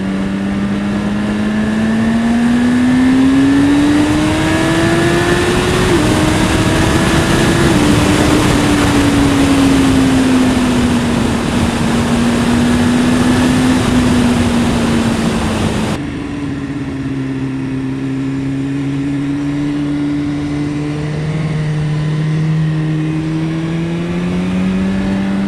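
A 2015 BMW S1000RR superbike engine drones loud and steady under acceleration, pitch climbing through the gears with quick-shifter changes, including one abrupt drop to a lower gear, with heavy wind rush throughout.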